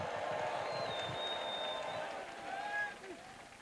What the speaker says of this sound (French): Clap offering. Avec des cris de joie.